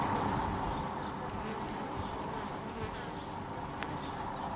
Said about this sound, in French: Voilà, frelons asiatiques